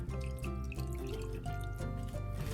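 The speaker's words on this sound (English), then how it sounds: "Now we add ½ cup of cold tap water to it." Cold tap water pours into a bowl with a light, steady trickle and some dripping, heard faintly and close up under a background hum, with no voices.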